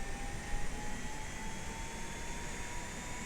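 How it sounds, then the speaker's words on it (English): An ATR 72-600 turboprop engine spooling up in a flight simulator game, a steady broadband roar with a faint rising whine, continuous and fairly quiet throughout. "And now this engine is actually starting."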